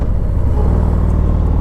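A Harley-Davidson Street Glide ST with tuned performance exhaust headers idles close and loud, a deep, rapid, pulsing rumble that throbs evenly throughout.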